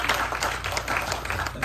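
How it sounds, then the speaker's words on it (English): Audience applause at a historical society lecture meeting: a dense, steady round of clapping from a seated crowd, fairly close and continuous without a break. "another round of applause"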